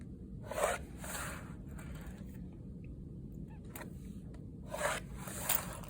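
Pen or pencil drawing straight lines across a paper grid, with a few brief scratchy strokes at the start and near the end over a low steady background.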